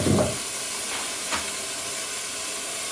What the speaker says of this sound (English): So we'll let this one here steam up and hopefully get through those little holes that we've just made on the wallpaper